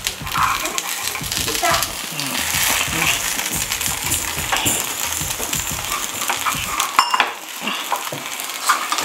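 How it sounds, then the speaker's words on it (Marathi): Rava cucumber appe sizzle steadily in an appe pan while being turned over, with small metallic clinks from the utensil, and a voice talks over the frying. "आता आपण आतल्या बाजूने बाहेरच्या बाजूला असं पलटी करत घ्यायचं आहे."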